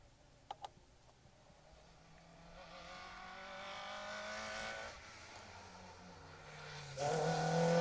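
A Peugeot 306 rally car on a stage of the Down Rally approaches from a distance, its engine note swelling and growing louder before a sharp burst near the end.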